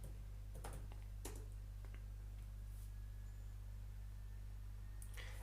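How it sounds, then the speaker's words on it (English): Someone types on a computer keyboard, producing a few faint, scattered key clicks against a steady low background hum. "So I type content alignment"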